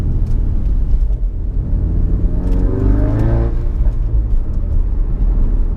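A Mk3 Ford Focus RS engine, newly replaced, revs loudly and steadily in sixth gear, its pitch climbing to a strained peak midway before falling back into a deep, continuous rumble.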